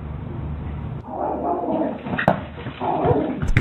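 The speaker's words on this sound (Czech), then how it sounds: "neuvědomili si, že majitel má velkého strašidelného psa" A large, fierce-sounding dog barks and growls in bursts at intruders in a house, loud and close, with a few sharp yips standing out over a dense, noisy background.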